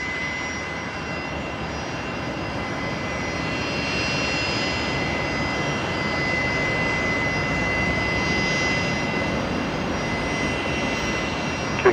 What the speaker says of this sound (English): Listen to those Rolls-Royce Tays.